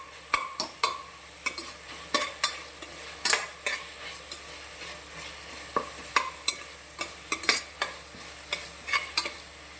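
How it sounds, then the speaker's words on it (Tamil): Ginger garlic paste being sautéed with onions in a pan for mutton bone soup: a soft steady sizzle under rhythmic scraping and stirring strokes of a spoon against the pan, close and fairly quiet. "இஞ்சி பூண்டு பேஸ்ட் சேர்த்துக்கோங்க. அதையும் வெங்காயத்து கூட சேர்த்து நல்லா வதக்கிடணும்."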